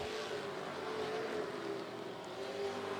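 Pro trucks racing on the dirt oval at Volusia Speedway Park, a faint, distant, steady engine drone with a sustained tone and no talk.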